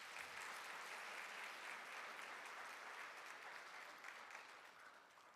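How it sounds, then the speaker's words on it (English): An audience gives sustained applause after a classical Indian dance performance, even dense clapping that holds steady and tapers slightly at the close, heard fairly faint and without talk. "Let's have another round of applause."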